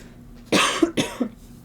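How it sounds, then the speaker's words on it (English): A person coughs twice in quick succession, a harsh, close burst followed by a second, shorter cough, with a rough throaty edge and a brief pause between them. "I'm gonna have to cough from that craziness."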